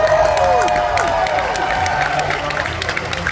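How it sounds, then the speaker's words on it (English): Audience applause and cheering for an actor at a celebrity event, a loud, continuous wash of clapping mixed with crowd noise and sliding whistles from the crowd. "but one more applause for him"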